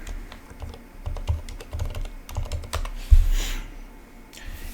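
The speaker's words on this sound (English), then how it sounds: "Now I need to enter my password." Rapid keystrokes on a computer keyboard as a password is entered during network lab setup, a steady run of close, crisp clicks with a couple of heavier taps, no talking.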